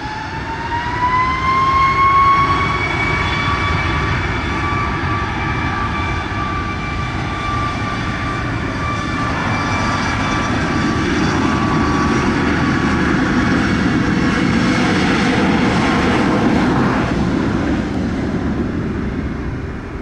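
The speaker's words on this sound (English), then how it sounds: "wind calm clear for takeoff, runway 25" A North American Airlines Boeing 777 taking off at Montego Bay, Jamaica, a loud sustained jet roar with rising whining engine tones that swells and holds steady across the whole stretch.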